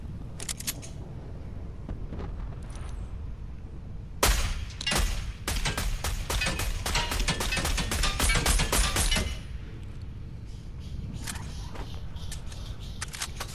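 Rapid bursts of Fortnite gunfire crack out in a dense volley for several seconds, loud and close, with scattered fainter shots before and after during a duo match.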